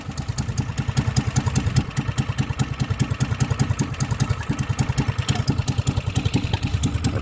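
A motorcycle engine idles steadily after finally starting, a close, even chugging pulse with mechanical clatter running throughout.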